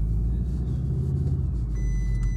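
A Volkswagen Golf R exhaust with the resonator deleted gives a deep, steady low rumble at idle, close and continuous with a faint high whine above it.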